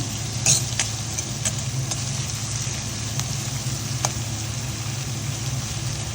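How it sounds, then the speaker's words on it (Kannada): Chicken frying in a pan with garlic, turmeric and pepper gives a steady, even sizzle over a low hum, with a few faint clicks and no talking. "ಫ್ರೈ ಆಗ್ತಾ ಇದೆ"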